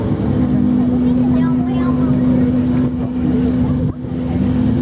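A four-wheel-drive race car with a bypass exhaust and rear spoiler runs loud and close at a Tromsø speed event, a steady droning engine note with a strong tonal hum, while an announcer talks over it.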